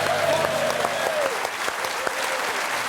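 A studio audience at a televised footy show breaks into steady, full applause, a dense continuous clatter of many hands throughout, with a voice faintly audible underneath.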